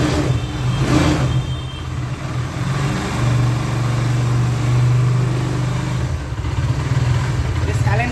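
A second-hand Bajaj Pulsar motorcycle engine runs close by, its steady mid-pitched hum rising and easing slightly as it is revved over several seconds.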